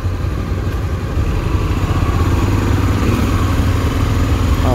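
Honda XRE motorcycle engine running steadily on an afternoon ride near Camaragibe, Recife, a constant loud low rumble with wind buffeting that rises slightly after the first second, no voices.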